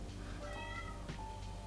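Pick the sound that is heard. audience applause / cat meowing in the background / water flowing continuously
cat meowing in the background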